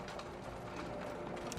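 Horse hooves clip-clopping steadily as the animal pulls a cart along a winding road between hills, a continuous even rhythm of moderate loudness with no voices.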